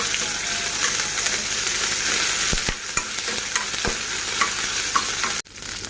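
Onions, green chilies and ginger garlic paste frying in a pan, a loud constant close sizzle with a few scrapes of stirring, ending abruptly.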